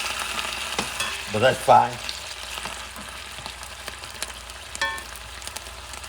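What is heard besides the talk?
vinegar being added to onions sizzling in a pan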